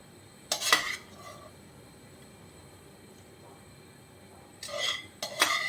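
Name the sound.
vegetables added to a pot and stirred for veg pulao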